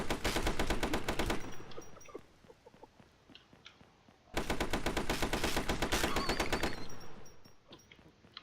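Machine gun fire in a video game while the shooter runs: rapid, rattling automatic bursts, loud and close, with a quieter gap between two long volleys.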